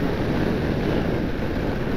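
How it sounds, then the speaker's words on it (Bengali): Riding pillion on a motorbike along the road from Guwahati to Bhalukpong, steady wind buffets the microphone in a continuous, loud roaring rush. "অনুপম বাইক চালাচ্ছে আর আমি অনুপমের পেছনে বসে আছি।"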